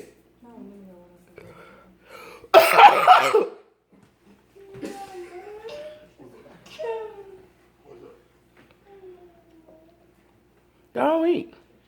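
A person coughs in a loud, harsh burst early on and again briefly near the end, with someone talking and muttering in the room between the coughs.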